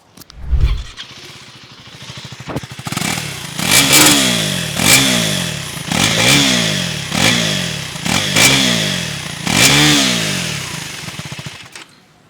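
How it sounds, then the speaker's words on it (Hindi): A 2024 KTM 390 Duke motorcycle engine revved repeatedly, about seven loud throttle blips in a steady rhythm with idle rumble between, close by and without talk. "Before we do the mileage test एक बार एग्जॉस्ट नोट भी सुना देते हैं।"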